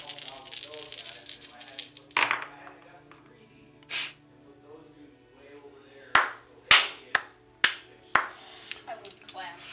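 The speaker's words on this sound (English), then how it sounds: "clap. Slow clap." During a tabletop miniatures battle game, a few claps ring out loud and close, slow and spaced apart, following some earlier voices and breathy sounds.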